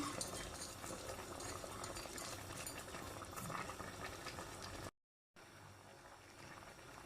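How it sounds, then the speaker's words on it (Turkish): Cabbage and rice boil in a pot, a steady dense bubbling and hiss filling the clip, with a brief dropout near the end, no talk. "Biraz da pirinciyle haşlıyorum."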